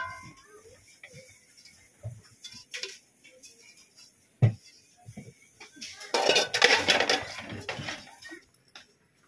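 A metal frying pan for frying milkfish is handled, giving scattered clinks and knocks, one sharp bang midway and a denser clatter of pans and utensils near the end, with no speech.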